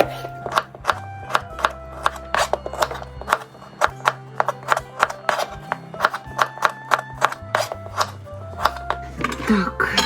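Knife chopping radishes on a cutting board for Ukrainian okroshka, a steady run of crisp close knocks and clicks at an uneven pace, with faint background hum and a few low clatters.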